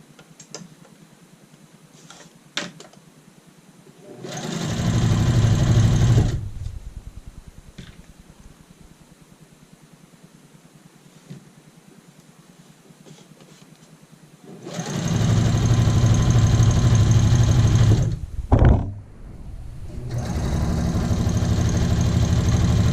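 A sewing machine runs in two loud, steady bursts while stitching the corner of an apron with a back stitch; quiet pauses with small handling clicks come between the runs, and a short stop and restart falls near the end.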